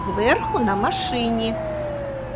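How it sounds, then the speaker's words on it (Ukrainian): A fire truck's siren holds a steady, slowly falling wail that runs under continuous speech for the whole stretch. "пожежна машина вмикає сирену і мчить на допомогу"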